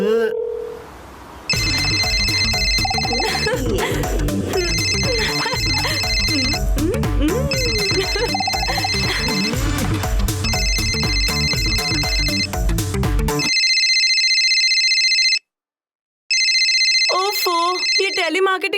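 A mobile phone ringtone plays in repeated, loud, near melodic bursts with short gaps, while people talk over much of the ringing.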